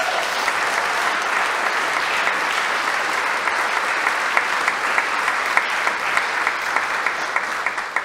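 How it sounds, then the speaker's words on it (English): A church congregation applauding, with steady, dense clapping from a crowd that continues evenly for the whole stretch, close and fairly loud, with no talk over it. "Isn't that worth a round of applause?"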